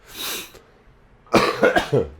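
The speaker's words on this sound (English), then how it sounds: "Sorry, I got a bad cough." A short burst of coughing: one brief cough, a pause, then three harsh, close coughs in quick succession, with no talking.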